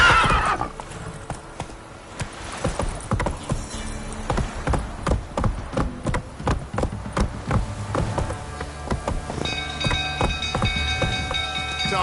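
Horse neighing and galloping in The Witcher 3 on PS5, a loud whinny up front followed by steady hoofbeats with game ambience and distant crowd commotion.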